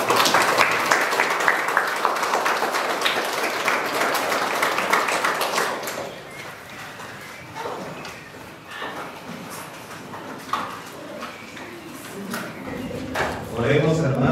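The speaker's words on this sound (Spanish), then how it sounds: "fuerte aplauso a los nuevos esposos." Congregation applause for newlyweds at a wedding mass, a broad patter of clapping that is fairly loud for the first six seconds, then thins into scattered claps and room noise with some murmuring.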